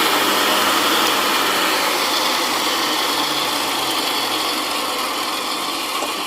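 Ridgid pipe threader's electric motor running steadily with a dense, loud mechanical whir and ratcheting gear noise close up, winding down slightly toward the end.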